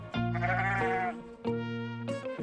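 A sheep bleats loudly and close, three wavering calls in a row with short gaps between them and no other sound.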